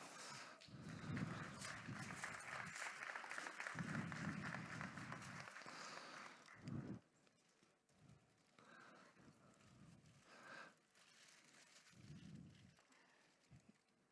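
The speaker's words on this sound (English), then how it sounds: "I need an applause now, eh?" An audience at a bluefin tuna cutting show claps in bursts of applause amid outdoor background noise, fading toward the end with a few scattered claps.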